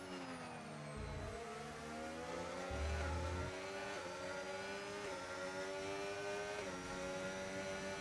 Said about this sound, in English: His Mercedes car just really roaring, trying to catch up as much as he possibly could on to the Aston Martin